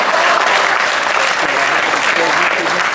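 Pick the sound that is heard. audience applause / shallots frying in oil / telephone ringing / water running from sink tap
audience applause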